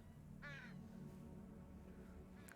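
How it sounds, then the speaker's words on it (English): In the Sherlock Holmes Crimes & Punishments video game, a crow gives one clear caw at moderate distance, with a second faint caw starting at the very end over a steady low ambient hum. "Caw."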